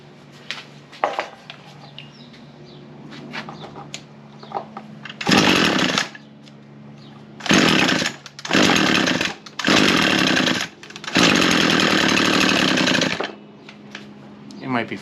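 An Echo SRM 225 small two-stroke engine, freshly fitted with a new piston ring, sputters through several short revving bursts with pauses between, loud and close, after brief pull-start sounds.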